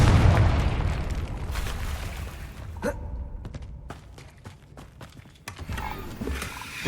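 Confringo blasting curse from Hogwarts Legacy: a loud, rumbling boom and blast at the start, then a sharp crack near three seconds and another burst later, trailing off into crackling debris and ambient game noise.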